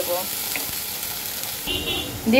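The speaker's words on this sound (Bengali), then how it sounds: "এখন আমি পেস্ট করা মশলাটা আমি এখন দিয়ে দেওয়ার পরে আমি একটু কষাবো" Ground spice paste sizzles in a pan as it is fried for a katla fish curry, a steady low frying hiss with faint stirring throughout.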